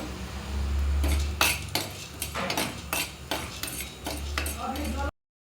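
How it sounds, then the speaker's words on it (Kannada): Black pepper dry-roasted and stirred in a pan, with a series of dry scraping stirs and metallic clinks of a ladle, loud and close over a low background hum. "ಮೆಣಸು ಹೊತ್ಕೊಳ್ತಾ ಇದ್ದೀನಿ"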